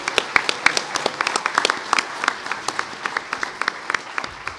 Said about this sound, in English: Give Netherlands a big cheer, guys.